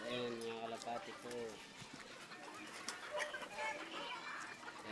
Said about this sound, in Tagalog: Ayan mga kalapati ko.